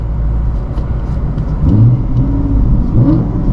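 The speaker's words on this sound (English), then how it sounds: "And the engine roars. LS3 sounds fantastic." A Pontiac G8's LS3 V8 engine with a Corsa catback exhaust rumbles loudly and close, then revs up into a deep roar partway through, with a steady low throb underneath.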